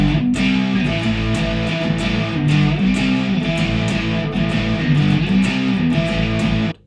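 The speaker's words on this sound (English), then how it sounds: "I've put some distortion on there" An electric guitar with a distortion effect plays sustained, thick chords and a riff, loud and continuous for several seconds before cutting off abruptly.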